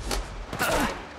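Gunfire in Apex Legends Mobile, a few sharp, rapid shots followed by a longer rattling burst with a faint descending whine, fairly close and loud.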